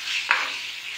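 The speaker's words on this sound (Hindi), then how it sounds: "चिकन हमारा फ्राई हो रहा है" Chicken fries in a pan with a soft steady sizzle, broken once by a single quick stirring scrape, close and moderately loud, with no talk.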